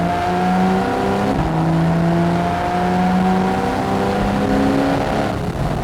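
Exhaust note of a Porsche 911 Carrera S 991.1 with the sports button on, a steady loud burbling drone heard from inside while driving, pitch climbing gradually and dipping briefly, with no talk.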